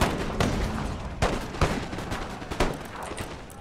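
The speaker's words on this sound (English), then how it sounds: "What, heading straight into cannon fire?" Cannon fire from the video game Empire: Total War booms out in several sharp blasts at irregular intervals over a rumbling battlefield backdrop, with no speech.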